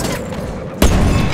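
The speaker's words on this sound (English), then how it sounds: "Ah! I got sniped." Sniper rifle shot in a video game, one sudden loud boom cutting through steady game noise and lingering briefly afterward.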